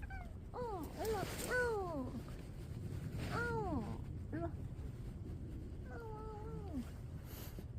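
Several drawn-out meows from a stray cat in short bursts, some rising and falling, fairly faint against a low background hum.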